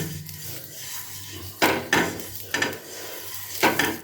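Several short scrapes and clanks of an eggplant stem dipped in oil rubbing against a metal wok to grease it, close and distinct, over a quiet kitchen background with no talking.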